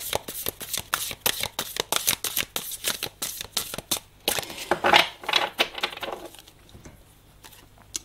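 Tarot cards being shuffled by hand, a rapid run of crisp riffling flicks that soften into looser sliding and patting before trailing off into quiet near the end; close and clear with no talking.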